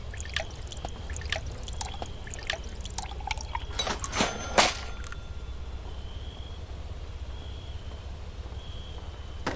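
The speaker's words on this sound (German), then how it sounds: "Blumen muss man gießen." Game sound of flowers being watered in Espresso Tycoon, a short burst of trickling, splashing liquid lasting about a second mid-way, set against a steady low background hum.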